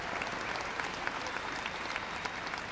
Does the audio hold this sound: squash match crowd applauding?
yes